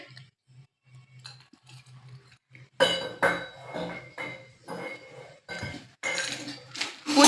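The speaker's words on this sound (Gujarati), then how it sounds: "હવે વાસણ ગોઠવે છે" Cooking pots and metal utensils being arranged in a home kitchen, with close clanks, scrapes and clinks in irregular bursts that grow louder after a quiet start of faint knocks.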